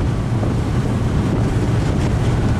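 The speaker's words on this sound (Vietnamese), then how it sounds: "cái sức gió giữa con tàu nó vượt biển như thế nào" Strong wind buffets the deck of a high-speed passenger boat carrying 400 passengers at sea, running around 25 knots, a steady loud roar with low engine rumble and wave noise and no voices.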